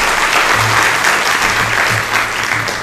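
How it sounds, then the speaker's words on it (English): Steady applause from a crowd fills the whole stretch, loud and dense, with a low hum running underneath. "Round of applause for those guys."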